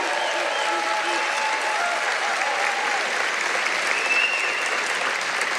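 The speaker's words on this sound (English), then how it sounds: "Give them a round of applause" A large rally crowd in Rocky Mount, North Carolina, applauds in a dense, sustained roar of clapping and cheering, with faint voices blending into the steady wash.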